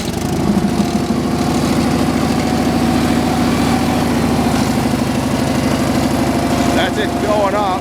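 Engine of a home-built slab saw for a Frick sawmill running loud and close, a steady rough chugging drone that holds at constant pitch throughout.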